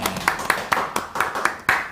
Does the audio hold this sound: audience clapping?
yes